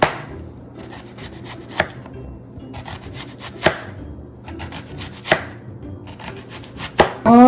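An onion is sliced thinly with a knife on a board, quick rhythmic runs of close cuts separated by five or six louder knocks as the blade strikes the board, nothing else audible.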